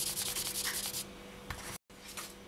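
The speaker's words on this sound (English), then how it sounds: "just grab another piece of paper. And then just quickly give that a burnish until it's nice and smooth." Paper is rubbed quickly over polymer clay to burnish it smooth, making a close, dry scratchy rubbing in rapid strokes, then a pause and a few lighter swipes.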